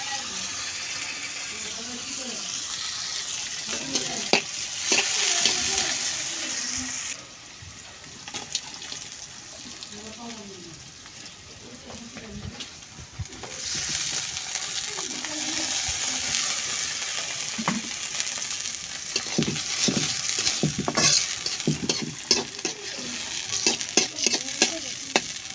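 Food sautéing in a pan after fish has been fried, with a steady sizzle and hiss, stirring scrapes and some clatter, briefly quieter midway before the frying noise swells again.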